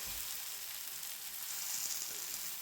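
Parai fish frying in a pan gives a steady, dense, close sizzle with no break, heard alone and without any talk.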